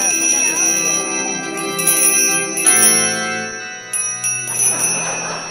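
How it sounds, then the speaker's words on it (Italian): A bright electronic bell ringtone chimes repeatedly, ringing out in layered, sustained tones with a short break before it starts again. "Ho messo la suoneria del cellulare con la campana"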